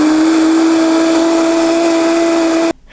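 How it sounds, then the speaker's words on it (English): A blender whirs steadily, grinding soaked almonds with water into almond milk, a loud constant motor drone that holds for nearly three seconds before cutting off abruptly. "now we're going to blend this"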